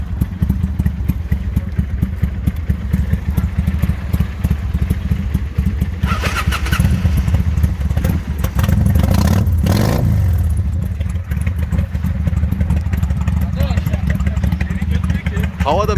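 A Kawasaki VN800 cruiser motorcycle idles with a loud, close, steady rumble, then revs up and back down around the middle of the stretch. The engine is heard alone without talk.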